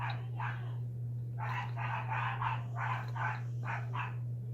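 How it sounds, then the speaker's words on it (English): Dogs barking outdoors in repeated bursts, a few short barks followed by a longer run of rapid barks at moderate distance, over a constant low electrical hum. "Dogs."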